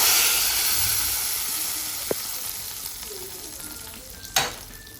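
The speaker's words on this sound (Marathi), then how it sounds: "असा झणझणीत तडका मस्त आपण चटणीवर टाकूया." A hot, spicy tempering of chillies and curry leaves is poured over chutney, giving a loud sizzling hiss that slowly fades, with a couple of sharp clinks of utensils and no talk.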